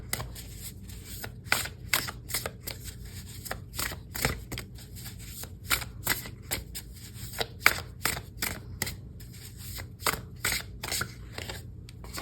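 Tarot cards being shuffled back into a deck, a quick run of close, crisp riffling snaps and soft slaps repeating at an irregular rhythm with no talking.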